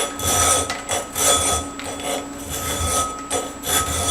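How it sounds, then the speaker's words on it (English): A half round file works a metal part held in a vise during a 650 scrambler motorcycle build, giving a run of rhythmic, rasping strokes at close range. "So I'm just going to use a half round file."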